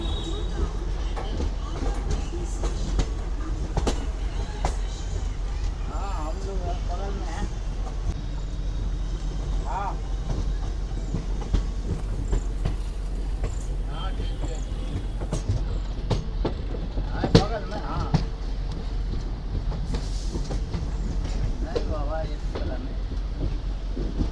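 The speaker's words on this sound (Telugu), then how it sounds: "మన ట్రైన్ బెండల్ నుంచి అయితే బయలుదేరిపోయింది." Gangasagar Express running between Bandel and Naihati Junction, a steady low rumble of the moving train with faint rail clatter and occasional knocks throughout, with a voice heard now and then.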